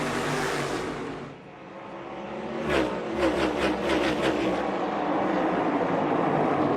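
NASCAR race cars roar around North Wilkesboro Speedway, a loud, continuous engine drone that dips briefly and then swells again as the pack passes close by.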